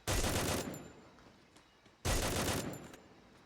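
A94 gun firing in the Free Fire video game: two loud bursts of rapid automatic fire, each about half a second, separated by a quiet gap with faint trailing echoes.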